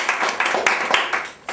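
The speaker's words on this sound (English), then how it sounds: "big claps to the complainers" A small group applauds the complaints choir at a temporary home, brisk uneven hand claps close by that keep going without a break before fading.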